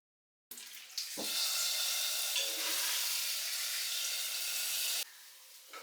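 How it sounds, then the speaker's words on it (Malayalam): Mustard seeds and dried red chillies hit hot coconut oil in a pan, a loud, close, steady sizzle with crackling that runs for several seconds before dropping back. "ഇനി വറുത്തിടാണ് വേണ്ടത് നമുക്ക് കടുകും വറ്റൽമുളകും അതാണ് നമ്മൾ വറുത്ത് ഇടുന്നത്"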